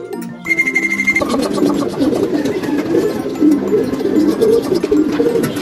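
Racing pigeons coo repeatedly close by in soft, throaty phrases as a bird arrives home, with a brief steady higher tone near the start.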